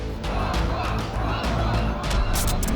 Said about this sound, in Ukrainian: тисячний натовп на Вацлавській площі в самому центрі Праги вимагає відставки прем'єра